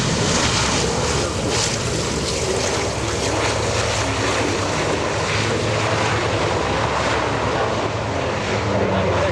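A propeller-driven aircraft, a P-38, at the EAA AirVenture airshow, producing a loud, steady engine drone with a rough, broadband roar throughout.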